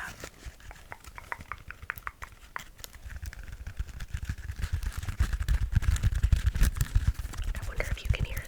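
A self-adhesive bandage wrap from a tattoo kit crackles and clicks as it is handled, producing many sharp dry ticks that grow busier and louder, with soft whispering faintly underneath.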